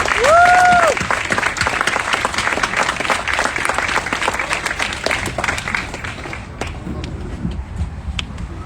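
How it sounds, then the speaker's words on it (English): An outdoor crowd in Emancipation Park, 3rd Ward, Texas, applauds George Floyd's family, with a brief whistle or cheer at the start and dense clapping that thins out toward the end. "We're going to give them a big round of applause"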